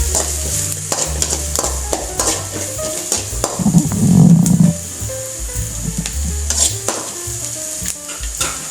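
Garlic sizzles in oil in a pan, fried until medium brown, while a spoon stirs and scrapes the pan again and again. Clinks and scrapes sound near and loud over the steady sizzle, with no talking.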